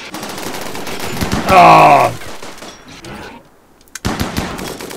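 A film's gunfire bursts out in a short rapid fusillade under a person's brief exclamation and other talk, then drops away before more noise returns.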